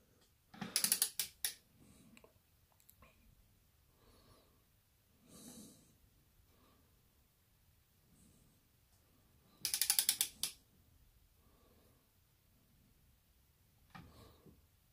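A ratchet wrench tightens the cylinder head of a Mińsk 125 motorcycle. Short bursts of rapid, close ratchet clicks come in three separate spells, with quiet breathing and faint handling noises in between.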